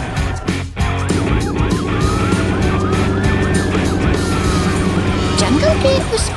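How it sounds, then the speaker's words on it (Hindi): Wailing police bus and ambulance sirens rise and fall together over rumbling vehicle engines, loud and close, with overlapping sweeping tones through the whole stretch. "सायरन की गूंज और पहियों की रफ्तार के साथ पुलिस की बस और एम्बुलेंस मिलकर किसी भी चुनौती का सामना करने को तत्पर है।"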